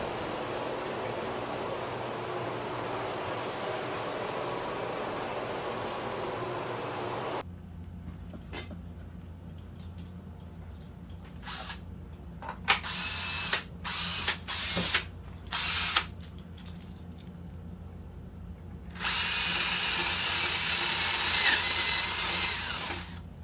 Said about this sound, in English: And this buffer works great.